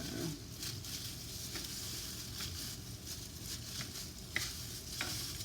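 Salmon crisping in half a tablespoon of unsalted butter with minced garlic in a pan, a quiet continuous sizzle with occasional faint spatula scrapes, close and without speech.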